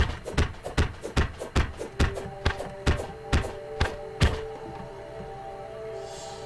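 The Daybreak melee weapon fires in Terraria as a rapid, evenly spaced series of about a dozen sharp percussive thumps, followed by a ringing tonal tail and quiet ambience.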